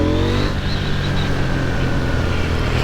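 A KTM 890 Duke R motorcycle engine accelerates, a steady loud drone with rising harmonics held throughout, close and continuous with no speech.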